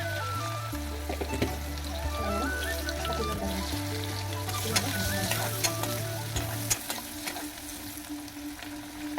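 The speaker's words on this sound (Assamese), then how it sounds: "কাটি লোৱা পিঁয়াজ দি দিছোঁ। আদা নহৰু দি দিছোঁ।" Chopped onion, ginger and garlic sizzle in hot oil in a home kitchen pan, a steady close crackle with occasional stirring scrapes and taps, and a low hum running beneath.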